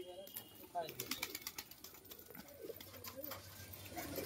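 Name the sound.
pet pigeons cooing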